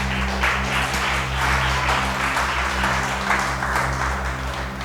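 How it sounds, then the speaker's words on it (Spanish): Members of a church congregation clap together during a sermon, producing full, continuous applause over a low steady hum from the sound system that runs underneath for the whole stretch. "Dale ese aplauso al Rey."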